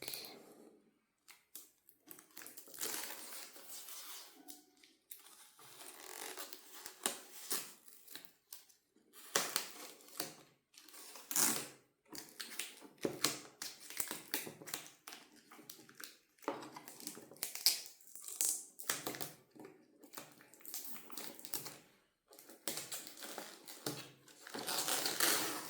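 Plastic protective film crackling and tearing as it is peeled off an Asus Prime RTX 5070 graphics card, with irregular close crinkles and sharp snaps in bursts and brief pauses, no speech over it.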